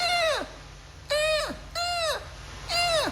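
A person's voice imitates a seagull call, four nasal, falling squawks in quick succession, close to the microphone with short pauses between them.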